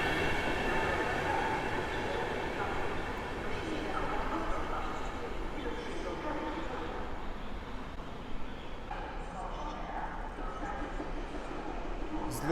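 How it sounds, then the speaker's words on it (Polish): A dual-system locomotive hauls a train through Warsaw Zachodnia station amid construction work, a loud, steady rolling rumble of wheels and cars filling the whole span without letup. "ta dwusystemowa lokomotywa poprowadzi ten, poprowadzi ten skład do Berlina."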